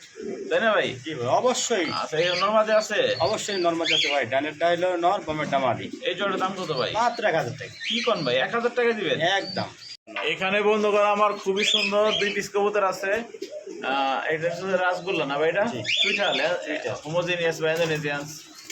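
Many pigeons, including Danish pigeons, coo and warble continuously at close range on a farm, with voices mixed in among the calls.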